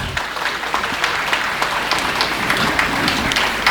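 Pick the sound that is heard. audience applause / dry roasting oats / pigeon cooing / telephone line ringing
audience applause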